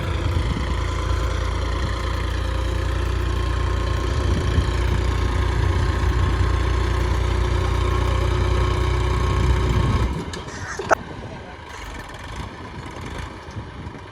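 A heavy diesel tractor engine idles loudly and steadily nearby, then cuts off abruptly, leaving a quieter background with a brief clank.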